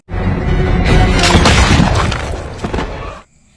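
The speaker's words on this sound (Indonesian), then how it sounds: "dia menembak salah satu penyihir, dan hal itu menyebabkan kepalanya meledak" A big rifle shot makes a witch's head explode in an action film: one massive, close boom that bursts into a shattering, crashing roar, holds for about three seconds, then cuts off abruptly into near silence.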